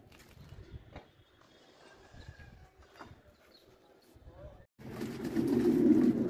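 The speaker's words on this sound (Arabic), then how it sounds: "النهاردة معانا مزرعة حمام صغيرة كده للبيع إن شاء الله في دمياط، بلد الأستاذ أحمد بركات" Pigeons coo softly at a French meat pigeon farm in Damietta, with a few low calls over quiet room noise, followed by a louder, denser chorus of many birds near the end.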